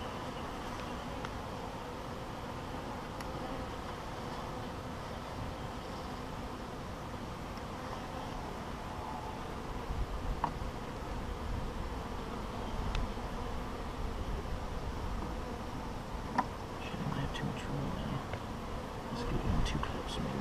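Honeybees buzz steadily around a Flow Hive as they are installed. The dense drone is continuous and fairly close, and occasional faint handling noises sit under it.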